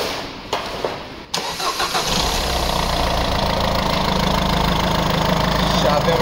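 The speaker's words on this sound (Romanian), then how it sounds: "Se pornește, se aude ok, o să dau să verificăm și pe jos și pleacă mașina." A Peugeot car engine in a repair shop, freshly fitted with a new intake and cleaned parts, cranks briefly, catches and settles into a steady, loud idle close by.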